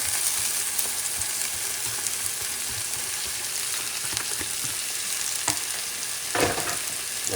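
Pork chops topped with an adobo and sazon mix sizzle in a pan, a steady close crackle with occasional stirring scrapes and clinks.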